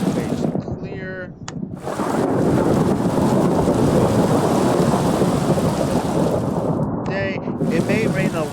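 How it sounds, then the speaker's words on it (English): Steady heavy rain with rumbling thunder in the Minecraft video game, a dense continuous wash that swells after a brief dip, with a few short tonal game sounds near the start and end. "It may rain a lot, guys,"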